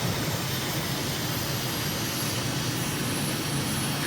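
A MiG jet's engine roars steadily in a flight simulator game as the aircraft climbs out after takeoff, a constant broadband rush with low rumble, loud and unbroken with no talking.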